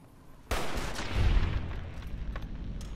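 A single loud gunshot in the video game Fallout New Vegas, a sharp crack followed by a booming, rumbling tail that lingers for a couple of seconds.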